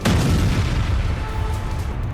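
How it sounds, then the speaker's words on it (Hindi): Heavy booming blasts from a drone attack in Dubai, a dense continuous low-end roar that rumbles steadily throughout with no clear pauses between impacts. "ड्रोन अटैक के बाद वहां तेज धमाके के साथ आग भड़क गई।"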